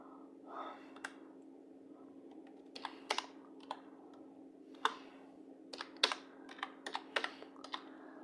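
A search term being typed on a computer keyboard: irregular bursts of quiet close key clicks over a steady low hum, with no talk.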